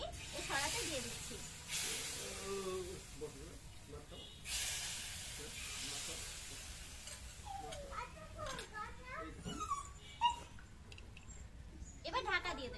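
Batter is poured little by little into an oiled pan in a home kitchen, giving soft bursts of hissing sizzle that rise and fade while people talk and children's voices carry in the background.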